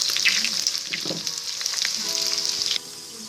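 Pork and onions fry in rendered pork fat with a bright, crackling sizzle that is loud at first and settles into a softer hiss near the end.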